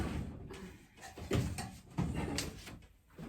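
A drawer slides open nearby while someone rummages for a magazine, giving a few short scraping slides and soft knocks spread over several seconds, with no talking.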